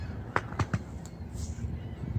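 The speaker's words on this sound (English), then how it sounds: "There's some ducks down there." Ducks on a river seen from a pedestrian railway bridge in Montreal, giving a few short honking calls in quick succession over faint outdoor background noise.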